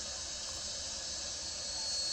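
Steam locomotive 4884, known as Big Mama, hissing steadily at close range: a constant broad hiss with no break and no voices.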